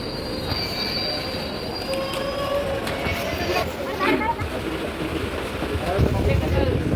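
Train at a station platform, with steel wheels squealing and rumbling as rail cars roll past, a long continuous grinding roar with high screeching tones, loud and close, while people talk faintly beneath it.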